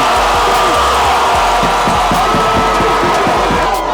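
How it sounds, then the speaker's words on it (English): Football crowd at a high school varsity game between the Gonzaga Eagles and St. Johns Cadets roaring after a touchdown, loud sustained cheering and shouting with whoops throughout. "He gets in the end zone for the touchdown, and the St. Johns crowd goes crazy."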